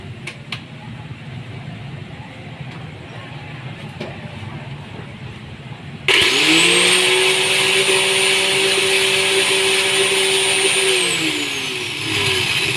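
After a quiet stretch, a homemade motorized leaf grinder abruptly starts up, whirring loudly and steadily with a high, blender-like whine until it slightly winds down near the end.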